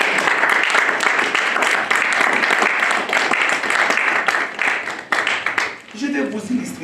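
Church congregation applauding and cheering to acclaim the Lord during a sermon, a dense, loud wash of clapping and voices that holds steady for several seconds before thinning out near the end.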